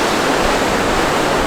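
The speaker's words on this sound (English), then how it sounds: "we are crossing what is called the Dut Kusi River" The Dudh Koshi, a milky-white glacial river in the Everest region of Nepal, rushes loudly and steadily below a suspension bridge, a dense, continuous broadband roar with no break and no voices.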